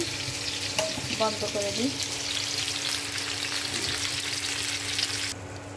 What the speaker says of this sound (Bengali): ইলিশ মাছ ভাজা হয়ে গেছে